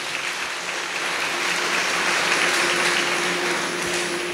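Dense applause from a crowd at a Marian house-blessing and birthday celebration in Vegeswarapuram, Eluru, a loud continuous roar of clapping that holds steady throughout.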